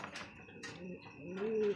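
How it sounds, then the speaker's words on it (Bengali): Baghdadi Homa pigeons coo softly nearby, with a few low rolling coos that build toward a louder, drawn-out call near the end, alone without talk. "দেখতে পাচ্ছেন চমৎকার আরো এক জোড়া বাগদাদি হোমা কবুতর"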